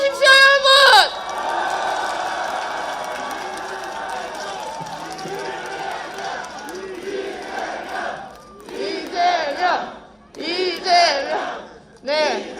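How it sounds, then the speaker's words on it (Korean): Election rally crowd in Busan shouting and cheering for candidate Lee Jae-myung, a dense roar at first that settles into a steady murmur, then rising again in several loud bursts of chanting near the end. "우리 모두 함성과 환호로 이재명 후보에게 든든한 부산의 길을 전해주십시오"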